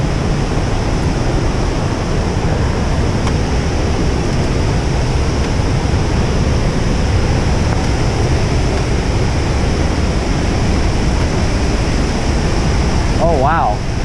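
Franklin Falls pours in a steady, loud roar of rushing water that stays constant throughout, with a short voice near the end.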